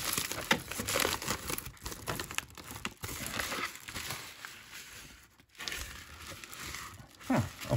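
A brown reusable mailing envelope holding sports cards is handled and opened with close, irregular crinkling and rustling of paper, louder bursts between quieter handling.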